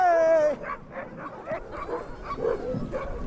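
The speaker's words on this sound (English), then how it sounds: "These are world-class racing dogs, Iditarod dogs." Iditarod racing sled dogs outdoors before a run: a high whine opens, then a string of excited yips, yelps and short barks follows in quick bursts, fairly near.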